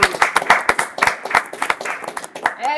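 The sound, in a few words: audience applause for a prize winner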